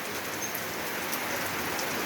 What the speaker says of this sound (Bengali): বৃষ্টি শুরু হচ্ছে,